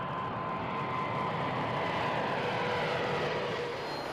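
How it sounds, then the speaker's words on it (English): A Boeing 747-8 on a test flight gives a steady, loud engine roar that stays even, with no other sounds, from start to end. "She must undergo a series of grueling test flights before delivery."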